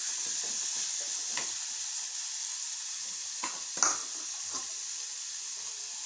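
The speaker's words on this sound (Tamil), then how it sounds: "உப்பை போட்டு வதக்கணும்." Green chili and chopped tomato frying with salt in a pan, a steady close sizzle with a few soft stirring scrapes and one sharper clink of the spoon.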